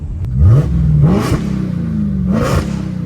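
A stock Dodge Hellcat V8 engine blips and revs in short bursts, with a deep burbling idle between the throttle stabs, loud and close.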